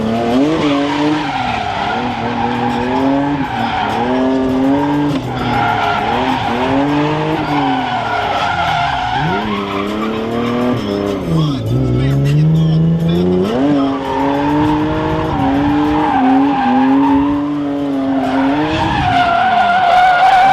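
Drift cars slide around a race track during a practice day, their tires squealing continuously in loud, wavering sweeps with engine drone underneath, the sound heard up close throughout.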